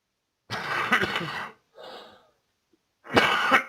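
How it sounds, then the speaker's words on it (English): Three coughs in a row, close and fairly loud, with short pauses between them and a softer middle cough. "Forgive the coughing"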